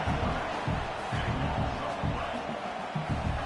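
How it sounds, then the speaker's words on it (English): Football stadium crowd at a college game roaring steadily, a dense wash of cheering with rhythmic low thumps of stomping or drums throughout. "this crowd coming to life here, trying to help the defense"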